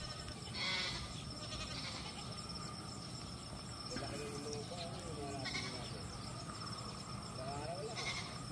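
Goats graze on fresh grass outdoors and bleat several times, the calls standing out now and then over a steady chirr of insects, while people talk nearby.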